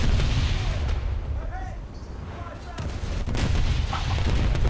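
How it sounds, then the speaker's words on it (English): Torpedoes strike home in the video game World of Warships, a dense, continuous roar of booming impacts and blasts that swells again toward the end. "Okay, those are the torpedoes"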